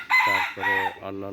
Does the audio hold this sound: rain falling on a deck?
no